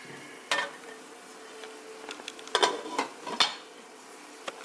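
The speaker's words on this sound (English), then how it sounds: "So as you can see, it's boiling." A pot of water bubbles and simmers steadily nearby, with scattered metallic clinks and taps from the pot.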